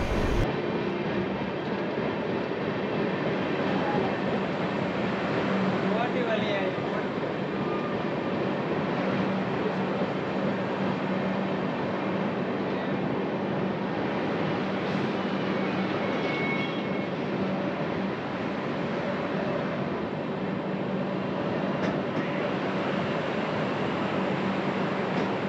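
Riding aboard the 12501 Kolkata–Agartala Garib Rath Express as it pulls into Katwa Junction, a steady, fairly soft carriage rumble holds throughout, with faint wheel clatter and occasional squeals. No voices are heard.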